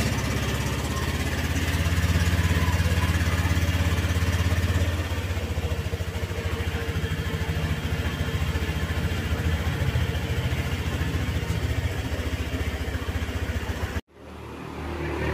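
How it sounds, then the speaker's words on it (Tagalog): A Honda Click motor scooter engine idles steadily and close by, warming up after a coolant and gear oil change, a constant rumbling drone that cuts off abruptly near the end. "painitin lang ulit yung ating motor para umikot yung gearings"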